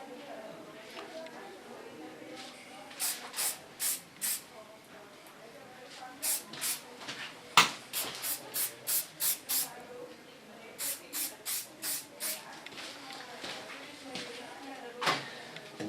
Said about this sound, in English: Now I take a little bit of hairspray. This is from Lanza, it's Hole 10, so it's an ultra strong one.